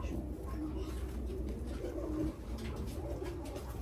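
Female pigeon cooing softly in a loft of fancy show pigeons, low repeated coos under steady background noise from the surroundings and other birds.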